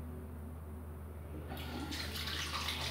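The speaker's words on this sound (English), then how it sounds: "And I'll just rinse my face once." Water running from a tap while rinsing the face after shaving, a steady hiss that swells louder halfway through as the flow strengthens or hands enter the stream, close and continuous with no talk.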